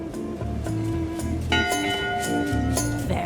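A ship's bell rings in the video game Return to Monkey Island, sounding several clear metallic strikes that ring out over soft background music.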